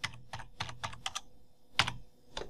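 Fingers tap out a password on a computer keyboard, a quick run of close, crisp keystrokes in small bursts with a short pause midway.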